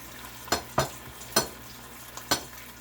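Chicken, shrimp and fresh onions cooking down in a pan for fajitas: four or five sharp stirring scrapes of a utensil over a soft, steady sizzle, with no one talking.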